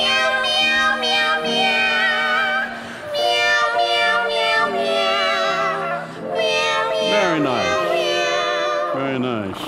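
Drawn-out, tuneful meows rise and fall in long phrases, loud and close, like a voice imitating cats singing together.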